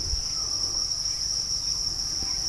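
Crickets on a cricket farm at evening feeding time chirp in a steady, continuous high-pitched drone, loud and close, with no voices.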